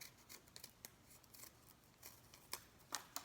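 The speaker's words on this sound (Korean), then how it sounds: "이쪽을 가위로 아이스크림 모양으로 동그랗게 자르겠습니다." Quiet, close snips of scissors cutting folded paper into a rounded shape, a series of short sharp clicks at an irregular pace, a few louder near the end.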